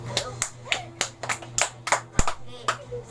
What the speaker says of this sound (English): give a nice clap.